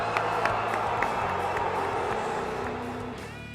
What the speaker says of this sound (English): The crowd were not happy with Jay placing second, as could be noted by their boos following the decision